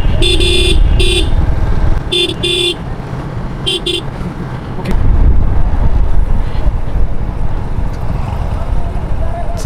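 A TVS Apache RTR 160 4V motorcycle rides along a road with a steady, close engine drone and wind rush, while several bursts of horn honking sound early on.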